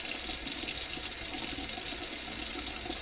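Floor cleaning solution poured into the tank of a Ryobi USB floor cleaner, a steady, close liquid stream running continuously without pause.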